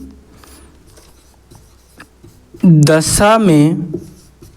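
Marker or chalk writing on a board while a maths problem is solved: faint scratchy taps and strokes come first, then a teacher's loud nearby voice speaks over them.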